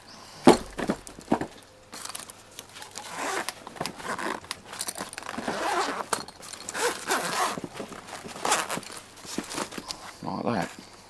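The zip on a carp tackle bag is pulled in several bursts, with scraping, rustling and knocks of the bag and straps being handled while a person talks.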